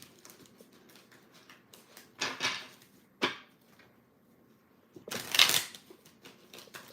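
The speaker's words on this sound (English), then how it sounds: "Shuffle them up just a bit." Tarot cards shuffled by hand in bursts of riffling and flicking, a few separate rustling runs with quieter card handling between them, close and fairly soft.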